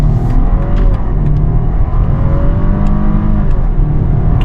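A 2025 BMW 330i sport sedan accelerating hard, with a loud, close engine note that climbs steadily in pitch with rising revs, heard from inside the car.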